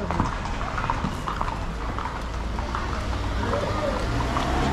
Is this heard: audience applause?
no